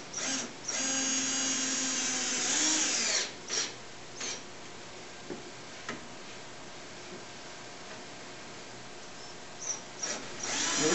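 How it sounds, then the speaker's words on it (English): A power drill drives screws into a board during a ShopBot Desktop coaster-making job in a woodshop, with loud, close whirring runs in several bursts and short pauses between them. "we'll just go ahead and screw these on in."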